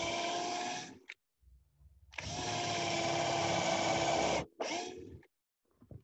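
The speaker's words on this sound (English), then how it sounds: "this is going to drill the pilot hole for us and the countersink all in one motion" Pocket hole jig drill boring a pilot hole and countersink in one pass through wood, two loud sustained whirring bursts of motor and bit cutting, separated by a short pause, with a brief third burst at the end.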